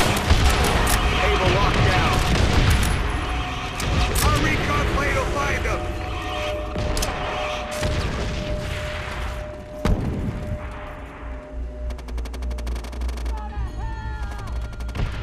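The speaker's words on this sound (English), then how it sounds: "Our artillery will shake him up." Artillery shelling and gunfire in the Call of Duty: World at War video game, with dense booms and rapid shots over an intense battle soundscape, loud and continuous, fading toward the end as radio-style voices speak over it.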